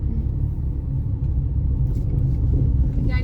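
A car drives along a road, its steady low engine rumble and road noise continuous and close throughout, with no talk.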